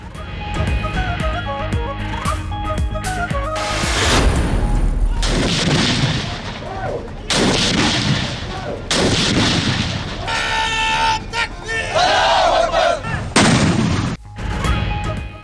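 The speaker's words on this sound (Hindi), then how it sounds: "दिन का आगाज विफाकी दारहुकूमत में 31 और चारों सूबाई दारहुकूमतों में 21-21 तोपों की सलामी से हुआ।" A cannon gun salute for Pakistan Independence Day, with loud, booming blasts repeated at intervals over a noisy outdoor crowd and broadcast backdrop, each boom cutting in abruptly and ringing out.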